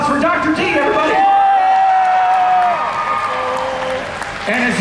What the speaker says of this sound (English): Give me a round of applause for Dr. D, everybody!